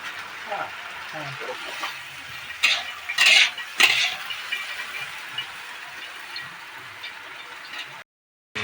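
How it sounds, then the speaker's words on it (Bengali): Oil hisses and sizzles steadily as potatoes fry in mustard oil in a pan, with a few metallic clanks and scrapes of stirring. "আলুটা ভাজা হচ্ছে"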